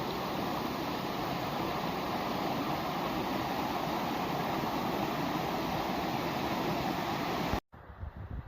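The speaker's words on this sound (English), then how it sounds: "you may hear the falls in the background" Coons Den Falls waterfall heard on a spring hike, a steady broadband rush of falling water with wind noise, continuous and fairly loud, cutting off abruptly near the end.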